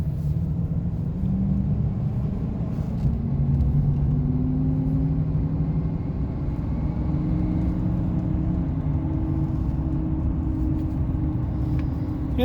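A Chevrolet Silverado CNG pickup truck cruises in four-wheel drive, its engine giving a steady, close, low rumble throughout with slight swells in pitch and no talking.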